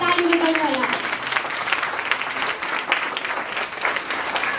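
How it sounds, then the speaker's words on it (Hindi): Sustained audience applause fills the room for an orphanage worker, dense and steady from start to finish, with a brief voice heard at the very beginning over the clapping. "वहाँको लागि ताली बजाउनुहोला"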